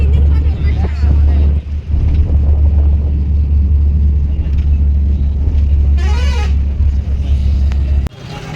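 A bus on the way to Ratnagiri temple in Vellore rumbles loudly and steadily up close, with a brief horn toot partway through and voices in the background.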